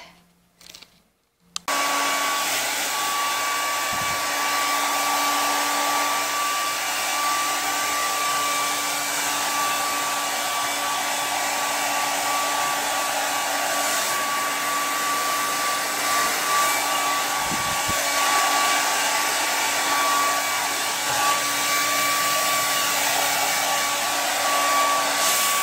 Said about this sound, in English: So we're going to get her all blow dried and groomed up.